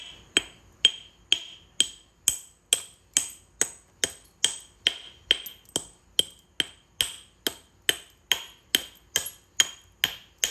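A chisel hammer fitted with an inch-and-a-quarter heavy beveled bit breaks up concrete, striking in a steady rapid train of about two sharp metallic blows per second, close and loud with no talking.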